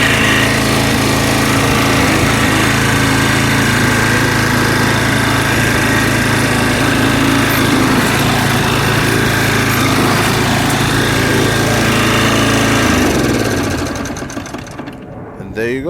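A Toro Timemaster walk-behind lawn mower engine runs steadily and loudly close by, with a constant buzzing drone, then winds down near the end.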